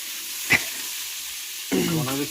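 Panch phoron spices and cut green chillies sizzle in hot oil in a pan, a soft steady frying hiss with a brief clatter, then a voice briefly speaking over it near the end.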